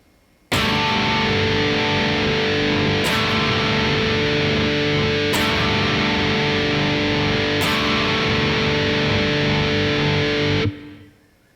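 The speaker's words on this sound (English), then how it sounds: "The addition of the major second to the root and fifth blends perfectly, even with lots of distortion." Heavily distorted electric guitar chord of root, fifth and added major second in an atmospheric black metal style, struck four times and left ringing in a thick, sustained wall of sound before cutting off.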